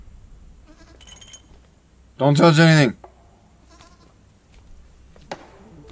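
A goat bleats once, loud and close, in the puzzle horror video game Creaks. The bleat is a single harmonic cry of under a second, with faint game ambience and insect-like buzzing around it and brief speech before it.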